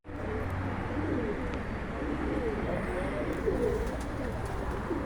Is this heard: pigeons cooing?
yes